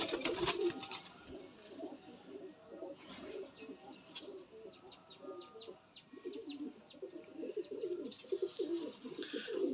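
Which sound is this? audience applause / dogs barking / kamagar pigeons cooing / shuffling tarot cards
kamagar pigeons cooing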